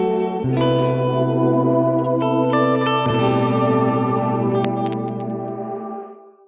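Reversed reverb tail from a VST plugin, a sustained harmonic wash that swells and shimmers rather than decaying, then cuts off abruptly at the end, with no talk over it.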